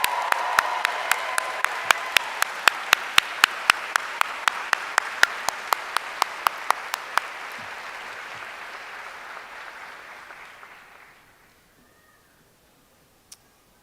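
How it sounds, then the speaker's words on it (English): An audience at a university commencement ceremony gives a sustained round of applause with a few sharp, loud claps standing out, which fades out after about eleven seconds into near silence. "Let's give them a round of applause."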